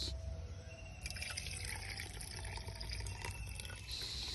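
Water trickles and splashes as it is poured into curd in a pot for making butter, a soft, continuous stream with small drips, faint and close.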